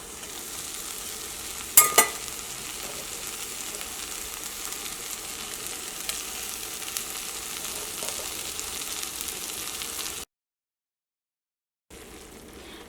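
Cabbage and boiled egg curry sizzles steadily as it is stirred in a hot pan, a continuous close frying hiss with a brief louder scrape of the spoon near the start.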